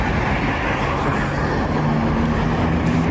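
A Lamborghini Murcielago's engine rumbles loudly and steadily up close, a dense, continuous low roar with a slight rise in pitch toward the end and no speech over it.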